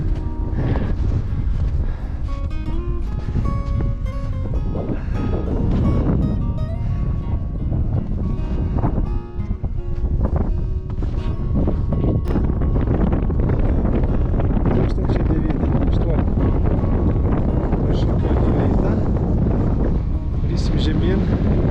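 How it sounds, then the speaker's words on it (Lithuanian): Strong, cold wind on a mountain trail near Zakopane buffets the microphone with heavy, continuous roaring gusts for the whole stretch. "nes labai vėjas didelis, šaltas"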